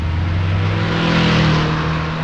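Motorbike engine running loud and close with a steady throaty drone that swells a little in the middle as it rides off, with no voices over it.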